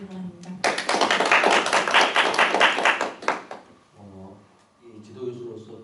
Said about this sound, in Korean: 모두 박수로 맞아주시기 바랍니다.